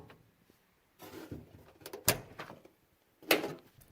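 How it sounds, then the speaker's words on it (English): A car door, reportedly a Nissan Sunny's, is handled and swung shut with a clunk around the middle of the clip, then shut again with a second solid slam near the end, amid soft rustling. "I'll close this door so I can test if it works."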